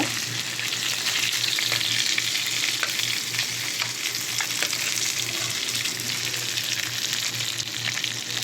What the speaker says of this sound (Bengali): এবার আমার মাছ ভাজা হয়ে গেছে আমি নামিয়ে নেব